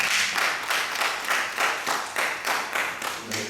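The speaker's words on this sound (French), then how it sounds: "Je sens que les membres du Sénat applaudissent fort le président." Committee members applaud at a press conference for chamber elections in Benin, a dense, steady clapping with rhythmic swells, moderately near and continuous throughout, with no talk over it.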